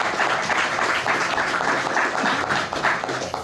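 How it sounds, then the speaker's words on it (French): A seated audience at a talk bursts into dense, lively applause, many hands clapping close and loud without a break for several seconds. "vous pouvez applaudir."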